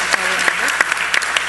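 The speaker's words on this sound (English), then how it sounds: "may I ask everybody to give a round of applause for" An audience at a talk on ASEAN applauds Ambassador Albert, with sharp separate claps over a steady wash of clapping and a faint voice running underneath.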